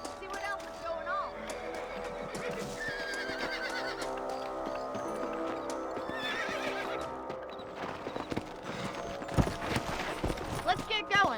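Horses in the Western video game Red Dead Redemption clop steadily and neigh, with spoken dialogue and a music score over the hooves.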